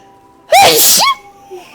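A single loud, sharp sneeze bursts out close by, briefly rising over a quiet background hum and fading fast.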